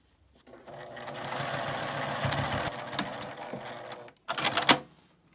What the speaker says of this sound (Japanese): 一周ぐるりと縫います。